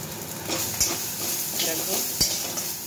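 Tomato frying in very little oil, a close hissing sizzle with a few sharp clinks of a spoon against the pan and soft stirring scrapes, moderately loud and steady.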